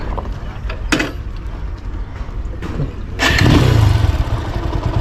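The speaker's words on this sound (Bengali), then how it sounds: "এখন চলেন বাইকটা স্টার্ট করা যাক" A motorcycle is started after a few sharp clicks and thumps, and its engine catches and settles into a loud, close idle rumble.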